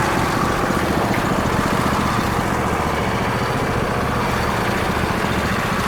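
Small Craftsman and Husqvarna lawn tractor engines idle together in neutral, a loud, continuous, rough mechanical chugging drone held close and steady throughout.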